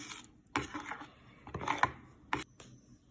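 Spoon scraping and clinking against a bowl as a yeast and sugar mixture is stirred, a few irregular bursts of scraping with quiet pauses between.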